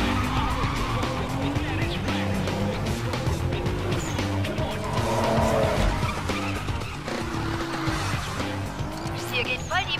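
Need for Speed racing game audio: a loud, continuous roaring car engine with long stretches of tire skidding and squealing, a dense sustained mix throughout.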